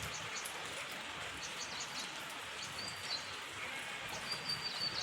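Rain falls over a village as a faint, steady, even hiss, with a few soft bird chirps in the distance.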